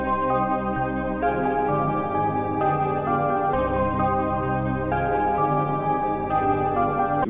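A dark trap melody loop built from layered sustained synth and distorted guitar tones, with low bass notes shifting every second or so under slow-changing chords, steady and fairly quiet with no voices.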